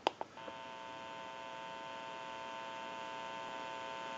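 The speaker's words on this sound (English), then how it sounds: "You may hear a little bit of an electrical hum." Steady faint electrical hum from a test amplifier used on an Automatic Electric rotary wall telephone, held continuously after a few soft clicks at the start, quiet and even throughout.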